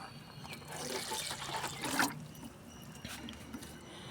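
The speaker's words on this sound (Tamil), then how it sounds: "இந்த கத்திரிக்காய் செடிக்கு ஊற்றுறோம்." Liquid red banana fertilizer poured onto an eggplant plant in a garden, a steady trickling splash swelling for a couple of seconds and then easing to faint dribbles.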